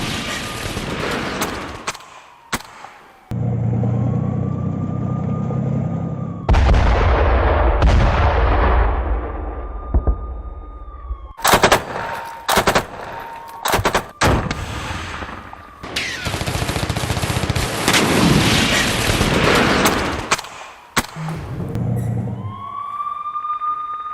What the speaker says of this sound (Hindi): टैंक से यूक्रेनी पोस्ट पर किस तरीके से फायरिंग की गई है उसका वीडियो आपके सामने